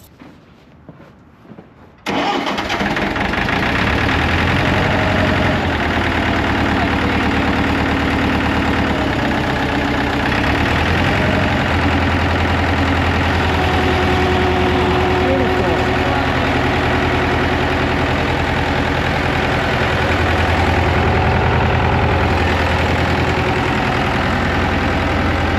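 An Allis Chalmers 644 articulated forklift engine, sitting unused for over ten years, catches after a brief crank and settles into a loud, steady idle with a low rough throb close to the microphone.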